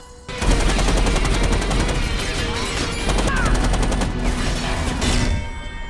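Rapid, dense bursts of automatic gunfire rattle loudly and continuously for several seconds amid a Justice League hostage shootout.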